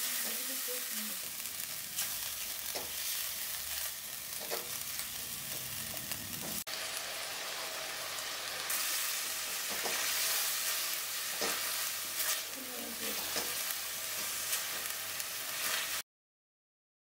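A paste of mustard, coconut and ginger sizzles steadily in hot oil in a pan, with occasional stirring scrapes over the continuous frying hiss.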